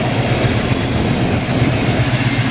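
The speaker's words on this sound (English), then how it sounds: "Nice Ford rumble going on there." 1969 Ford Mustang Mach 1 with dual exhaust running outdoors in California, a steady, throaty low rumble close by and continuous, with wind noise over it.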